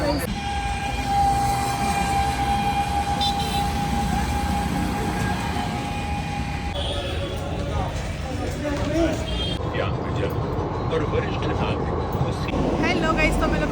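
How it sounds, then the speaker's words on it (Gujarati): Riding inside a Delhi Metro train gives a continuous rolling rumble and hiss, with a thin steady whine in the first half that drops away as the carriage sound shifts. "हम लोग मेट्रो से ट्रैवल करिए तो"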